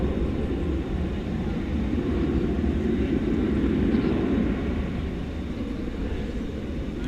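An airliner on flight 1062 to Albuquerque departs at night from DFW Airport, producing a loud, sustained low jet roar that swells slightly and then begins to ease.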